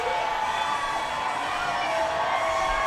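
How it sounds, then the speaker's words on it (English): Pride parade crowd screaming and cheering for beads, a loud, dense wash of high-pitched shouts and whoops from many people, close and sustained throughout. "Listen to those screams."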